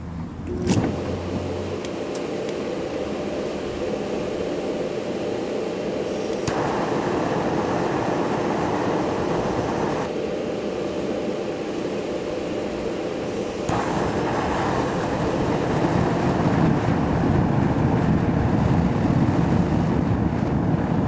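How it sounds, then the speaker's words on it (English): Blower on a home-built aluminum melting foundry roars steadily and continuously, a broad rushing drone that holds for the whole stretch with no talk. "Plug in the blower."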